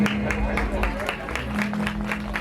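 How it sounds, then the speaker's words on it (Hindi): Crowd applause welcoming guests onto the stage at a Gau Bhagwat Katha religious gathering, a steady wash of clapping mixed with some crowd noise. "जोरदार तालियों से अभिनंदन, जोरदार तालियों से स्वागत करें।"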